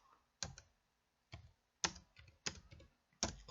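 Keys on a computer keyboard are typed in a handful of separate, close clicks with short gaps, ending in a firm tap like the return key, quiet and alone with no talking.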